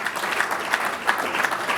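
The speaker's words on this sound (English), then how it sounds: "Give him a round of applause, please, Sebastiano." Awards ceremony audience applauding steadily, a dense, even roar of clapping filling the short moment.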